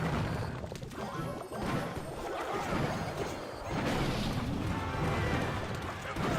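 In a Clash Royale battle, a mortar is dropped in and fires among dense game effects: heavy crashing impacts, whooshes and thuds layered over continuous busy arena noise.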